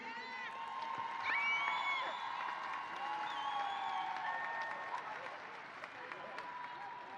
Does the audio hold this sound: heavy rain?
no